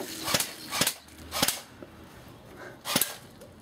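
An M4A1 airsoft rifle fires at a Foster's beer can outdoors, giving four sharp, close snapping shots at uneven intervals with no talk between them.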